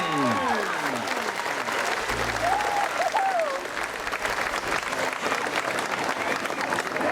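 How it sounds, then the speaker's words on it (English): A large crowd claps steadily at the 2022 Princess Kay of the Milky Way coronation, dense and loud applause filling the space while an announcer's voice briefly rises over it near the start. "Let's hear it for Rachel Rinda, 69th Princess K of the Milky Way."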